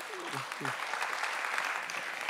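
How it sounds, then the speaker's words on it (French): A roundtable audience at a book and bookshop event claps steadily, moderate and close, with a voice briefly heard at the start before the applause carries on alone. "Je crois qu'on peut vous applaudir et vous remercier."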